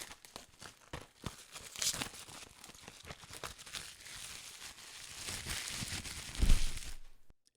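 Scissors cut into a cardboard booster box, giving a few minutes' worth of crinkling, tearing and crunching scrapes, with a louder thump near the end, close by and with no talk.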